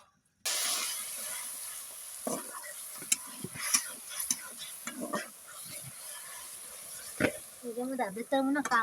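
Desi duck meat being stirred and cooked in a pot at an outdoor winter night picnic, a steady sizzle and hiss with scraping stirs and clatters, with people talking over it.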